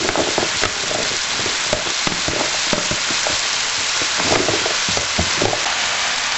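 Cubed pumpkin tumbles into a pot for a sweet pumpkin and carrot soup, setting off a steady, loud hiss of sizzling with scattered soft taps and clatters throughout.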